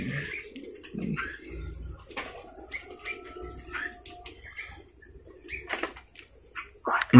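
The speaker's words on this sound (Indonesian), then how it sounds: "ini burung habis mandi hujan nih" Small birds in a mini aviary after rain move about while cleaning themselves, giving scattered soft chirps, brief coos and occasional wing flutters over a quiet background.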